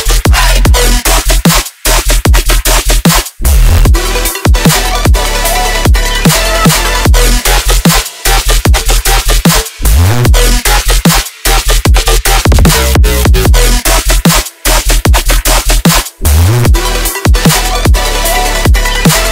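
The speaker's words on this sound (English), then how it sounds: "In this video we're going to take a look at classic yet really cool sounding dinosaur type bass" A dinosaur-type dubstep bass made in the Serum synth growls and roars in loud, dense, distorted bursts over pounding drums. Brief silent breaks cut the bursts apart, and the sound stays very loud throughout.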